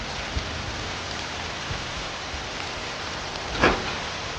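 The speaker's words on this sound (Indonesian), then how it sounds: "hujan deras begini, tidak tahu berteduh" Heavy rain pours down steadily, a dense continuous hiss filling the whole stretch with no talk over it and one brief louder splash near the end.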